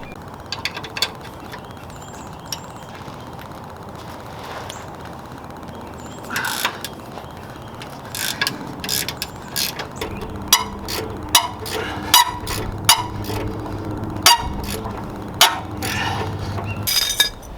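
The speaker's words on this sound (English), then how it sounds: "So we're going to take those two little nuts off" Nuts being removed from the brake and ABS lines on a Jeep JK, with a ratchet clicking and metal tools clinking in short, uneven bursts that grow more frequent toward the end, close up in a quiet garage.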